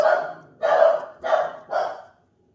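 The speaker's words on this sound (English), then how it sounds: "Sorry, just went to check up on what the dogs were barking at." A dog barks four times in an even rhythm, close and fairly loud, with short pauses between barks and no other sound.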